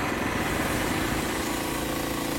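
Briggs engine of 7.5 or 10 horsepower running on a Frontier OS23 portable sawmill, a steady, loud, close idling drone with a constant buzzing rumble and no pauses.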